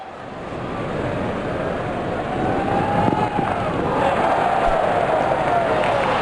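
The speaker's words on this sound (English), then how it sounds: "Crowd is enjoying every bit of this action." A cricket stadium crowd at an India versus England match makes a steady, dense roar of cheering throughout, loud and continuous with no single voice standing out.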